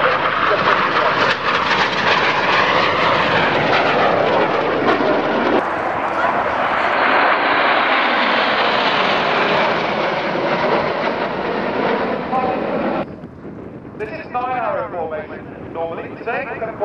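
Red Arrows jets fly an airshow display at Duxford, a loud, continuous roaring rush that swells and fades as they pass, with a commentator talking over it throughout.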